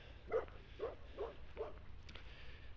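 A dog gives four quick, moderately distant barks in a row, faint over low background hum.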